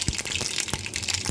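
Mustard seeds sizzle in hot oil in a pan, a short burst of crackling hiss with a few sharp pops, faint and close.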